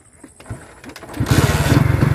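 A motorcycle engine turns over with a few sputtering attempts, then catches and settles into a loud, close, rhythmic putter in the final second, with no talking.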